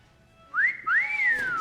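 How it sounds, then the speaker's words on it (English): A person whistles two rising-and-falling pitch sweeps, the first short, then a brief gap, then a longer glide that climbs and slowly drops, close and clear over a quiet room. "Keep whistling"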